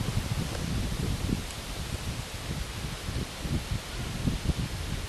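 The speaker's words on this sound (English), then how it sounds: "Wow, it's really breezy." Strong, heavy wind buffets the microphone outdoors during a small fixed-wing drone flight, a loud, constant rumbling roar with gusty swells.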